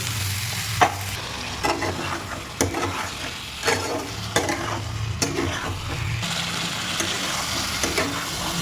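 Potato, ridge gourd, onion, coriander, green chilli and spices sauté in a pan with a soft continuous sizzle, punctuated by regular close scrapes of a spatula stirring the mixture, no voices present.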